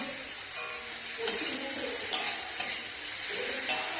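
Chopped onion with salt, then tomato, fries in a pan for aloo dum, giving a steady bright sizzle with a few stirring scrapes at close range.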